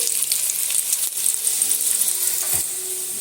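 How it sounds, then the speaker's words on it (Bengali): Potatoes frying in hot mustard oil in a wok, a steady loud sizzle and crackle throughout with a brief stir or scrape partway through. "তেলের মধ্যে আমি সেই আলুগুলো আমি দিয়ে দিচ্ছি।"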